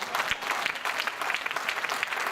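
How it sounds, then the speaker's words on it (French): A church congregation applauds and cheers the Lord at a service: dense, steady clapping from many hands, close and loud, sustained throughout without pause. "Est-ce qu'on peut acclamer le Seigneur très fort?"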